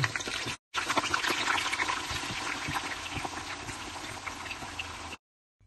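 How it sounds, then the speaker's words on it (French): A dense, steady sizzle and crackle of potatoes frying in hot oil, close and continuous, with a brief break near the start. "Après avoir fait frire nos pommes de terre"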